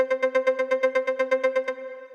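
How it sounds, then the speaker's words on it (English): Basic arpeggiator patch on the U-he Diva synth: a fast, even run of about fifteen plucky harmonic notes in rapid succession, clean and alone, ending with a short decaying tail. "we are starting out with the very basic arpeggiator sound here, which sounds like this."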